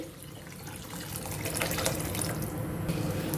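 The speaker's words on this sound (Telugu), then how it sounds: "ఇప్పుడు ఇందులో చింతపండు నీళ్లు వేసుకోవాలి" Tamarind water is poured into tomato rasam cooking in a pan, making a steady close splashing pour that builds slightly toward the end, with no talking.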